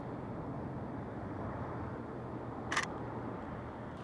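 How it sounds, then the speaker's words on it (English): A camera shutter fires once, a short crisp click near the end, heard over steady low outdoor rumble. "Oh, this shutter. Sounds amazing."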